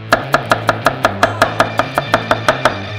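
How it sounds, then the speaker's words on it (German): A knife finely chops a peeled garlic clove on a cutting board, about fourteen crisp, evenly spaced strikes in a fast steady rhythm, close and loud over faint background music with no talking. "Und fein hacken."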